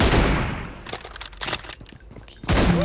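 Gunfire in PUBG Mobile during an M24 sniper challenge: a burst of sharp shots and clattering reports in the middle, with a heavier rumble at the start and again near the end.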